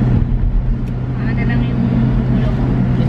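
Inside a taxi driving along a road, a loud steady low engine and road rumble drones continuously, with faint muffled voices underneath.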